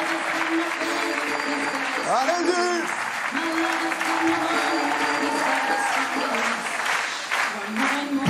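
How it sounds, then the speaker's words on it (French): An audience at a live comedy show claps continuously and fairly loudly, mixed with crowd noise, while someone talks over the applause. "applaudissez-le très fort."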